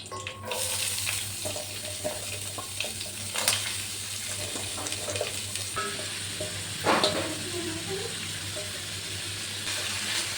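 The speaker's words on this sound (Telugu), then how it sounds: "ఇప్పుడు ఇవి వేగినాయి కదా, కొంచెం ఆనియన్స్ కూడా వేసుకుందాము." Whole spices, bay leaf and onions sizzling in a pan of oil for an egg tamarind curry, a steady close frying hiss with occasional stirring clatter and no talk.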